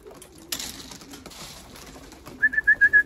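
Young pigeons that have just started flying, outdoors in a garden, give a short run of about five soft, rhythmic cooing or whistling notes near the end, after quiet background rustling.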